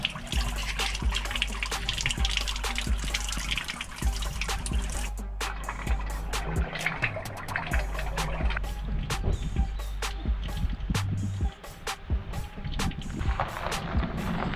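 Mountain spring water pours down steadily in a continuous loud rushing trickle, close by and constant throughout, with faint background activity and no talk.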